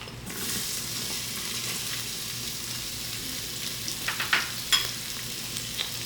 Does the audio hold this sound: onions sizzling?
yes